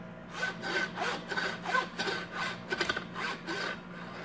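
A hand saw cuts through a deer skull behind the eye sockets, about nine rhythmic rasping strokes back and forth, close and steady, with no voices.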